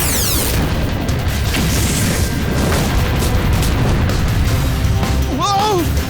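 A Blazing Blast attack in the Redakai cartoon sets off a deep rumbling boom that rolls on for several seconds under dense debris noise, with whooshing sound effects and brief swooping tones near the end.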